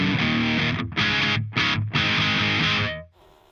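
Distorted electric guitar chords played through a Two Notes Cab M+ cabinet simulator with the mids scooped, four loud sustained strums separated by short gaps, the last ringing out and cutting off into near silence.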